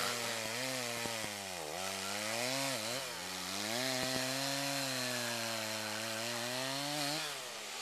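A chainsaw bites into a dead tree during felling, its engine droning steadily with pitch dipping and recovering under load, heard alone at moderate distance.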